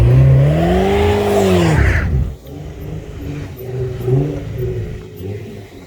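A V8 car engine revs hard in deep snow, loud and close with a rising then falling whine, before dropping to a lower rumbling idle with lighter surges.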